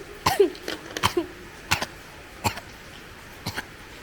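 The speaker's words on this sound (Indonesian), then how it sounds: "Bagi kalian itu batuk biasa apa batuk berlebihan?" Several sharp, throaty coughs in irregular bursts, close and moderately loud, with short pauses between them.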